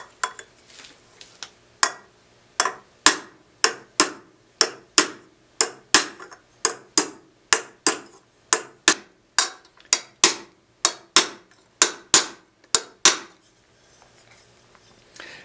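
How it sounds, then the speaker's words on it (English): A hammer strikes a copper bowl being raised over a metal stake, about twenty-five sharp ringing blows at an even, steady pace, close and clear with short decays. "I'm only hitting on one space of the stake with the hammer, and the metal is moving between them."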